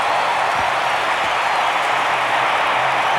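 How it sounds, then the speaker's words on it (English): A large baseball stadium crowd roars and cheers continuously as the Atlanta Braves clinch the 1992 National League West title, a loud, dense, unbroken wall of applause and shouting. "Listen to this crowd."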